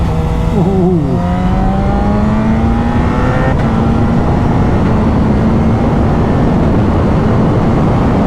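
A loud Suzuki GSX-R750 motorcycle engine roars continuously on a wet dual carriageway, pitch climbing as it accelerates through gears, with rushing wind noise throughout.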